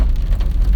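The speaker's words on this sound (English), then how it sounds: "It actually was raining harder when I left the house" Steady rain patters hard and close on a surface as an unbroken wash of sound with a deep rumble beneath it, and no voices.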